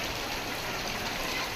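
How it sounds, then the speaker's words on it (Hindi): Heavy rain pours down in a village, a steady, dense hiss of water that fills the whole moment without a break, with no voices over it. "देखिए यहाँ कितना बारिश हो रहा है"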